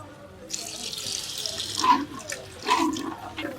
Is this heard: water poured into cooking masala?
yes